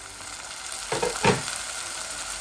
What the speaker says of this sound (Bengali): এখন আমি একটু গরম পানি দিলাই ওর মাঝে, পেঁয়াজগুলা আস্তে আস্তে গলক।